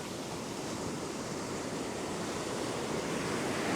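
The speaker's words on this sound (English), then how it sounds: "That wind is freezing." Cold wind blows steadily across a beach where someone is surf fishing, making a continuous broadband roar that mixes with the rush of surf and stays loud and unbroken, with no voices.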